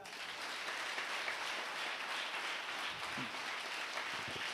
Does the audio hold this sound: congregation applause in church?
yes